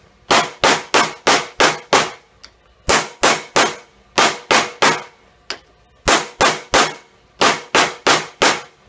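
Brass is hammered to form and flatten a falconry bell in a die: loud, sharp metallic strikes in quick bursts of five or six, separated by short pauses, with no talking.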